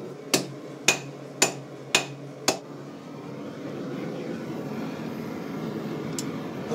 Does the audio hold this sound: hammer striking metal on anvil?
yes